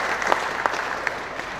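Brief applause from an official gathering's audience, a short even patter of clapping with a few sharper claps standing out, moderately loud and steady.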